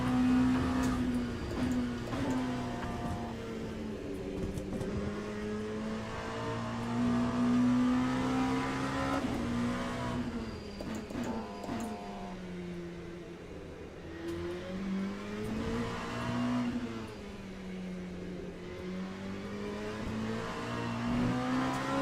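Race car in Le Mans Ultimate driven on the bumpy Sebring circuit, engine note climbing and dropping through repeated upshifts and braking downshifts, loud and continuous with rhythmic revving swells across the lap.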